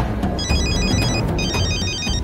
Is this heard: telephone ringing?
yes